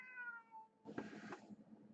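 A hungry house cat whines and meows, giving a drawn-out tonal cry and then a louder, harsher meow, close and clear against a quiet room.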